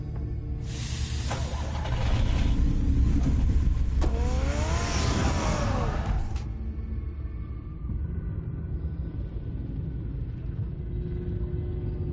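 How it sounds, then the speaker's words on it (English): Batman's car in the Batman Telltale Series game being readied and driven off, a loud rumbling engine swelling with broadband rush and a rising whine, then settling into a steady lower drone. "Get the car ready, Alfred."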